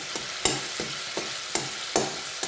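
Spice masala with tomato and potatoes fries in a pan for alur dom, a continuous sizzle broken by about six sharp, regularly spaced scraping stir strokes, close and clear with no talking.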